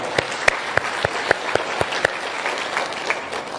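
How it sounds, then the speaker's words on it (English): A crowd at a political rally in Ukambani, Kenya, claps steadily, with sharp individual claps standing out over a dense, even patter of applause. "I suggest we give him a big, big clap."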